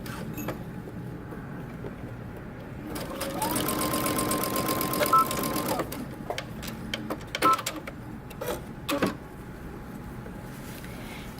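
A sewing machine back stitches a dress seam in a short whirring burst that builds midway. Scattered clicks and knocks follow against a quiet room.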